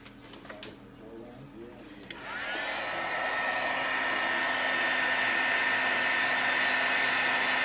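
A heat gun switches on with a click and then blows a steady, loud whoosh close by while drying alcohol ink on a card panel, after a few seconds of quiet handling sounds.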